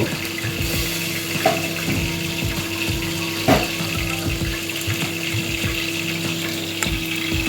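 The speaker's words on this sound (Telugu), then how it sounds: "దాని ప్రకారం మూడున్నర వాటర్ వేసుకుంటున్నానండి" Water poured into a pot with chicken stock for chicken mandi rice makes a steady, rushing flow that runs nearby throughout, with a faint hum and a few light knocks.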